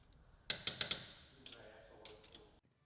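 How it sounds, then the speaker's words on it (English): Torque wrench clicking as lug nuts on a Polaris RZR Turbo R wheel are tightened in a crisscross pattern, four sharp close clicks in quick succession followed by a few fainter ones. "Once lowered, torque the lug nuts to specification in a crisscross pattern."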